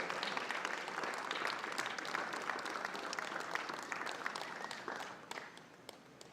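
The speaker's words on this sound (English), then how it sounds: "Please give another round of applause for Mr. Vishwanath and his iconic 97 not out against the West Indies in 1974." A crowd at the Sai Krishnan Cricket Stadium in Muddenahalli applauds a former cricketer at the One World One Family Cup 2025, a broad steady wash of clapping that thins out toward the end.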